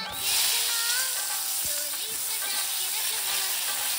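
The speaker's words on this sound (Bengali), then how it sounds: "বেগুনগুলো আমি আলু থেকে ভালো করে ভেজে নেবো।" Cut eggplant frying in hot oil, a broad, even sizzle and hiss that stays close and fairly loud throughout, with faint voice-like tones underneath.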